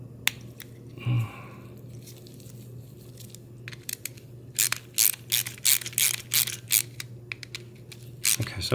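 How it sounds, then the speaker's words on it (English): A nut is forced down a bent threaded rod in a DIY generator build, giving stiff ratcheting clicks and gritty scraping in quick irregular bursts over a low steady hum, close up. "this nut does screw down onto it now. It's a little tough, but it does go."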